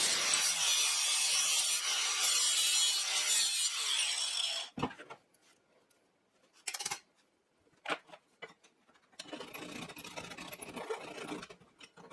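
A pedalboard box hinge being cut and shaved down, with several seconds of steady, loud rasping like a saw or file, then a pause followed by short scraping strokes and a final stretch of rough rubbing.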